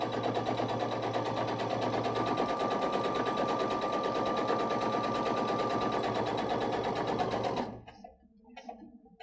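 A sewing machine runs steadily at speed stitching a water-resistant picnic blanket, a dense continuous mechanical whir with rapid needle rhythm, close and loud for about eight seconds before stopping abruptly.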